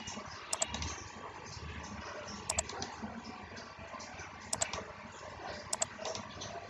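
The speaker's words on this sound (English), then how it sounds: "use filter keys" Keys clicking in four short paired bursts, roughly two seconds apart, on a computer keyboard while adjusting Windows 10 filter key settings, faint and close over a low steady room hum with no talking.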